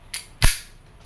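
A small handgun is test-fired, with a faint metallic click followed by one sharp, close report whose echo decays over half a second.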